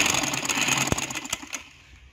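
A sewing machine runs steadily as it stitches a cord onto fabric held taut, a close continuous mechanical whir with a few sharp clicks, tapering off near the end.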